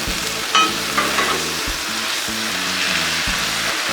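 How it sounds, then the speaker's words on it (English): Onions sizzle and fry on a flat Blackstone griddle, a steady loud crackling hiss with a few metallic scrapes and taps of a spatula stirring them. "Throw the onions in with it. Get them a good mix."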